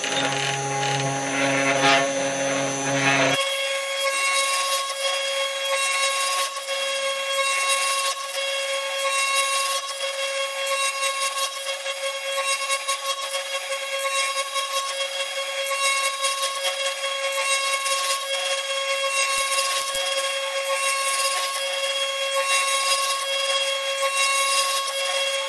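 A GRBL-controlled CNC router mills a workpiece, its whine running as a steady, loud tone with a constant tonal hum beneath it. A brief louder burst opens the clip before the machining settles into a continuous drone.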